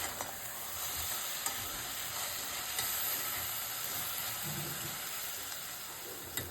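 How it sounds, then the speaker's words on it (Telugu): Tomato pieces frying in a pan with chili and turmeric give a steady, close hiss and sizzle with occasional soft stirring knocks, heard on their own throughout. "టమాటా ముక్క మెత్తగా మగ్గే వరకు వేయించాలి"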